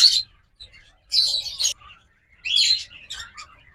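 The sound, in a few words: yellow collar cheek mask lovebirds chirping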